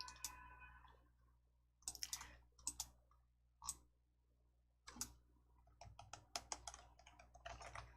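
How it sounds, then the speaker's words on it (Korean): A few sharp computer mouse clicks, spaced apart, sound close and quiet over a low steady hum while the DIAT Hangul word-processor exercise is carried out; no one speaks. "클릭."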